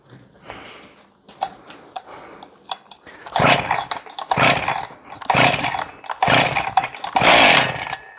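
A Husqvarna 268XP or 272XP chainsaw is pulled several times, then its engine catches and runs in loud, uneven revving bursts close by, with a few quieter tugs and clatters before it fires.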